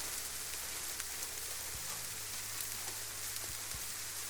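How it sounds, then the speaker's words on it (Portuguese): Steady rain falls as a soft, even hiss, fairly faint and continuous, with a low hum underneath and nobody talking. "que o som da chuva conduza suavemente"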